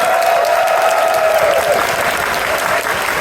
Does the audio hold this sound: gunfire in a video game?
no